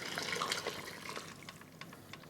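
A cup being rinsed out with water: a close, steady wash of running and splashing liquid with a few small drips and clinks, fairly quiet and without speech.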